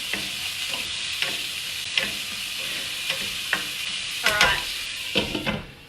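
Onions frying in a pan, a steady close sizzle broken by several louder scraping stirs from a utensil, with the cooking continuing throughout.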